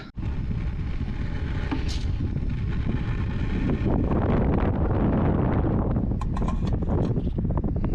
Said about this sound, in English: that wind was a bit bad